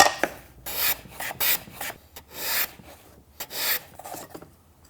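A hand plane shaves a wooden component, sizing stock for a dovetail box, in a series of close, loud rasping strokes separated by short pauses, each stroke a broad swish that rises and fades.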